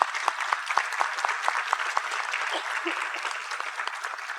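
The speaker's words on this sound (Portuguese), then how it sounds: "Uma salva de palmas" Applause from a seated audience at a panel session, steady brisk clapping at moderate distance with individual claps audible, holding evenly throughout.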